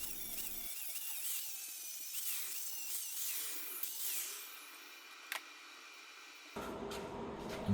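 A handheld power tool grinds down fresh welds on a Fiat Coupe body, a high whirring whine that rises and falls with pressure, broken by short pauses and a sharp change in tone near the end.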